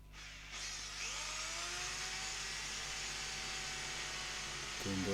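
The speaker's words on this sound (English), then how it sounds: "I'm going to drill it." Power drill boring through sheet metal on a 1980 Opel Kadett rally car's A-pillar repair, a continuous high whine held for several seconds, close and loud, with a brief clunk at the end.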